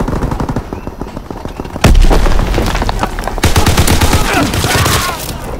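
Dense battle gunfire from Call of Duty WWII, with players defending against an enemy tank escort near flak guns: rapid machine-gun bursts rattle continuously, punctuated by two heavy booming explosions, loud and close throughout.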